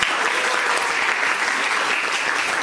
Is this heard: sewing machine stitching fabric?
no